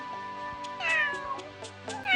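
Tangerine, a pet cat in the video game Revelation M, meows several times in short close calls, with soft game music and ambience running underneath.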